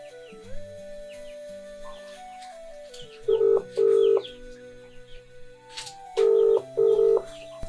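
Telephone dialing and call tones while placing a call, with two pairs of loud electronic ring beeps over quieter background tones and faint bird calls.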